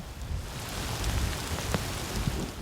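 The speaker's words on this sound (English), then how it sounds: "when it does rain in Coober Pedy, it buckets down." Heavy rain pours down in Coober Pedy, Australia, in a dense, continuous hiss, with occasional sharper drops spattering nearby and a faint low rumble underneath.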